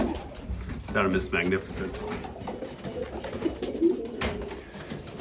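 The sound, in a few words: racing pigeon cocks cooing in loft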